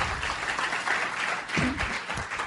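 Audience applause at an Amway business talk, a steady wash of many hands clapping at moderate level with a few stronger bursts, continuous throughout without speech.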